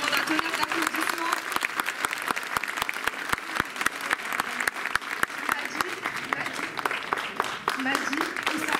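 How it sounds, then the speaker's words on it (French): An audience gives a thunderous round of applause at an event, with dense, sustained clapping throughout and no pauses. "Je demande un tonnerre d'applaudissements."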